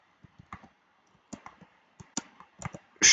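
Sparse, crisp computer mouse clicks sound close in a quiet room, irregularly spaced and then cut off by a sudden loud burst of noise.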